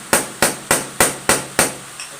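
A hammer strikes a chisel against a bolt on a Ford 3000 tractor, six evenly spaced sharp metallic taps followed by a fainter seventh, close and clear with no voices.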